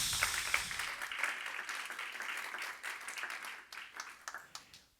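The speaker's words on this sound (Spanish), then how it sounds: "Dale palmas si puedes." A church congregation clapping during a sermon, a soft, fairly distant patter of many hands that builds briefly and then thins out and fades toward the end.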